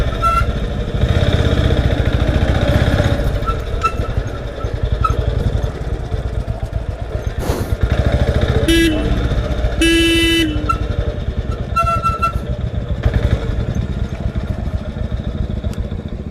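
Motorcycles riding on a road, a Royal Enfield Classic 500 following a Dominar 250, with continuous loud engine drone throughout and several short horn toots near the middle.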